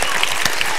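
A church audience in Fort Smith, Arkansas keeps up loud, continuous applause, a thick wash of many hands clapping at close range, with a few sharper individual claps standing out.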